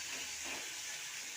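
Ginger and cumin paste fries in a pan with melted tomato, green chili and chopped bay leaf, giving a soft, steady sizzling hiss throughout.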